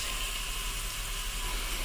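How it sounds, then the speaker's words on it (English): Chicken sears in an Instant Pot, giving a steady, even hiss of sizzling fat that stays level and fairly quiet throughout, with no talk. "So we're just going to give these other two a little sear. There's a little sizzle, huh?"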